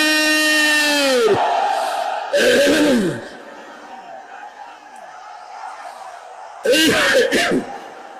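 A large crowd at an outdoor religious gathering at a parade ground roars back a takbir response in loud, sustained shouts, in two or three bursts after a preacher's amplified call, with spoken voice in between.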